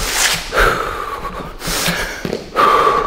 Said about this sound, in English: Big breaths, big breaths. Sharp inhales, long exhale.